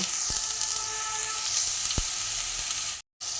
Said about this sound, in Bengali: একটু ভালো করে নাড়িয়ে নেব।